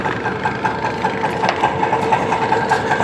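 A trawler's engine idles with a steady, loud mechanical drone and a faint knocking pulse. No voices are heard.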